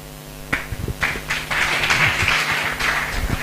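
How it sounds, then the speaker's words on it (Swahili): Audience at a county public participation meeting on a fiscal strategy paper breaks into scattered clapping that swells into a fuller round of applause, heard fairly close in an indoor hall. "Mwongezeni makofi tafadhali."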